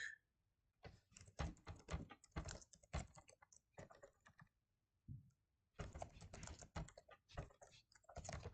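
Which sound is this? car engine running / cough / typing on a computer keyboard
typing on a computer keyboard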